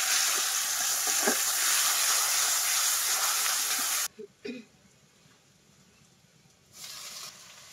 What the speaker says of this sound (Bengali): মরিচ পেঁয়াজ একটু ভাজবো বেশি করে।